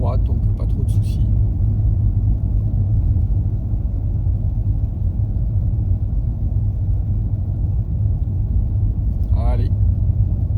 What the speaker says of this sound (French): Alors encore une voiture pour un croisement.